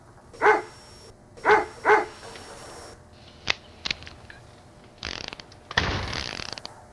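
Three sharp barks from a dog, spaced about a second apart, followed by creaking, clicking mechanical noises and a burst of rustling.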